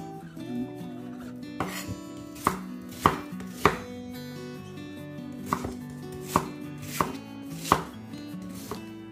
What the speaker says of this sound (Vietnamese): và bây giờ chúng ta sẽ xắt củ hành.